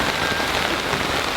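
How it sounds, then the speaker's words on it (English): Heavy rain pounding steadily on a vehicle during a 4WD overland trip in Vermont, a loud continuous dense patter with no pauses. "Because it's raining loud!"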